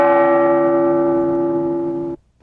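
A single church bell in a tower, heard from right beneath it, strikes once with a loud, bright tone that rings steadily for two seconds before being abruptly damped.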